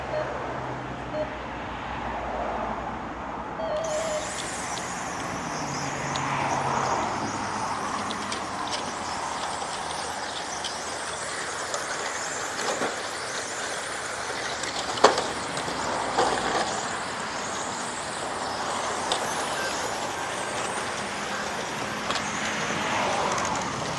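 Electric RC cars race around the Eastbourne track, a steady high whining buzz of motors rising and fading as they pass, heard from trackside with a faint murmur of people in the background.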